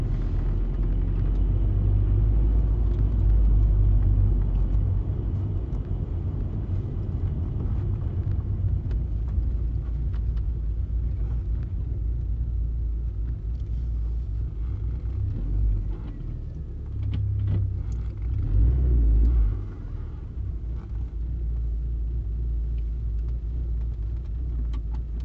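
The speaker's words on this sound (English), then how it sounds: "the K-Series is an absolute screamer of an engine." An MG MGF, a mid-1990s British sports car with a Rover K-Series engine, driving along with a steady, loud engine and road rumble throughout, swelling briefly at a few points and with no talk.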